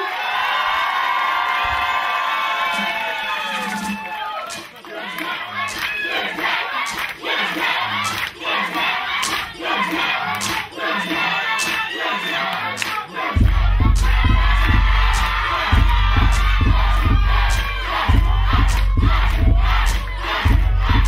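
Loud crowd at a televised show erupts in cheers, shouts and whoops for the group Young Boys, with a heavy rhythmic beat kicking in partway through and the roar continuing steadily over it.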